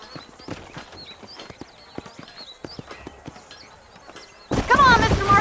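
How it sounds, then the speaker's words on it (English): Horse hooves clip-clop in a quick, uneven patter on the trail in Red Dead Redemption, moderately close, alongside faint bird calls. A louder burst of noise cuts in near the end. "These are fine horses."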